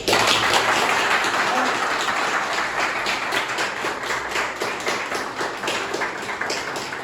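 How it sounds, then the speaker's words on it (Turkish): Strong, sustained applause from a crowd at a Tuzlugölspor football club sponsor gathering, dense clapping throughout with a faint voice underneath. "Tüm sponsorlarımız için şöyle güçlü bir alkış istiyorum."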